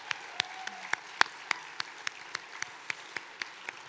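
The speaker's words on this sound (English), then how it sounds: "can we have a round of applause for our lawyers at Earth Justice" At a 2019 environmental gala, an audience applauds lawyers with sharp, evenly spaced individual claps that ring out clearly over a quiet room.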